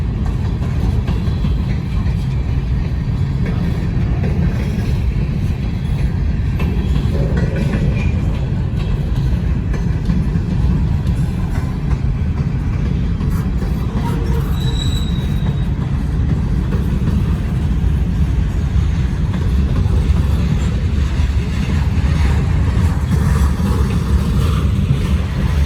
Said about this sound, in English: train is a monster.